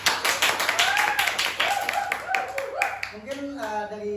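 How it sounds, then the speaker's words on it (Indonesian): An audience at a talk show about the Putra Puteri Antasari pageant claps together in a brisk burst of applause, then a voice begins speaking as the clapping fades. "Oke, tepuk tangan dulu."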